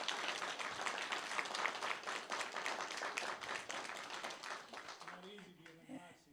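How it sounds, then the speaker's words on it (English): Audience applause at a Seward Electric community town hall meeting, a dense burst of clapping lasting several seconds before thinning out as a voice begins speaking near the end. "round of applause."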